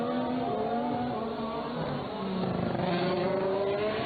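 Formula One cars at the 2016 Monaco Grand Prix braking hard as they crest out of the tunnel on a low-grip track: a continuous, loud engine whine with shifting harmonics and dense trackside roar throughout.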